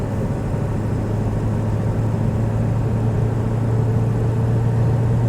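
A 2000 Ford Excursion Limited with a 7.3L Powerstroke diesel and 4WD accelerating gently, heard as a constant loud low engine drone with road rumble from inside the vehicle, no talk.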